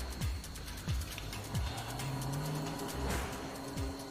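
Car engine droning continuously at moderate distance, with a few dull low thumps and a hum that swells and fades, as if a vehicle approaches and pulls up.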